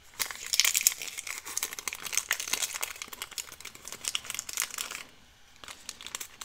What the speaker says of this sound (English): I like for it to look a little crumpled, so we're going to crumple that and then kind of flatten it back.